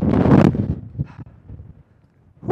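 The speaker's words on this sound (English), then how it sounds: "It's quite gusty up here." Gusty wind on the hilltop of Pendle Hill buffets the microphone in a loud opening roar, then dies down to softer intermittent gusts and near quiet before rising again at the end.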